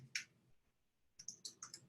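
Fingers type quickly on a computer keyboard during a live webinar, giving one early click and then a brisk run of crisp keystrokes after a short pause, close and fairly quiet, with no speech.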